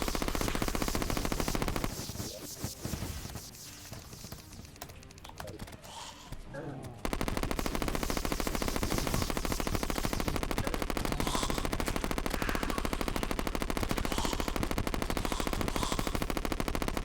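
Rapid gunfire from a weapon in Terraria, dealing 250 damage a shot, rattling in fast continuous bursts that pause briefly before resuming loud and steady over game audio.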